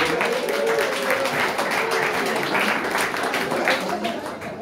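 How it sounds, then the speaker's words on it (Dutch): Warm audience applause for an alderman at a Leiden craftsman-of-the-year award ceremony, a dense, steady wash of many hands clapping that tapers slightly at the end, with a voice faintly underneath. "dan wil ik heel graag een heel hartelijk applaus voor de wethouder Yvonne van Delft"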